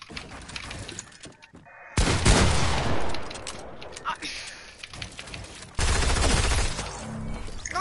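Rapid SMG fire spammed in a shooter video game, long bursts of gunfire that rattle on loudly with brief breaks and sharp restarts, mixed with other game noises and a voice talking over it.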